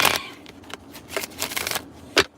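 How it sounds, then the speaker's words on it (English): Tarot cards riffled and shuffled close up in a series of crisp, papery bursts of varying length, with no talking. "I'm going to shuffle these cards up"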